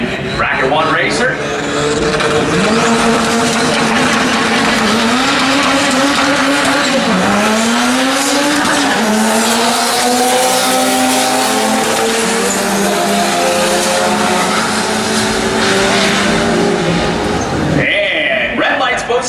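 Bracket drag race cars launch down the strip at a dragstrip, a loud sustained engine roar rising in pitch as they accelerate, while an announcer talks over it throughout.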